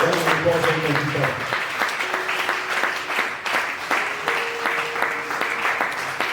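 A church congregation claps during a worship service, a rippling wash of hand claps running beneath a speaking voice that continues over the applause.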